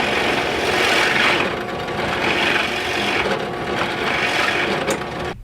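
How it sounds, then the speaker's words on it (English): A power drill whirs steadily and loudly up close, its pitch wavering slightly as it bores dowel holes into wood, with no pauses. "I'm going to drill some dowels"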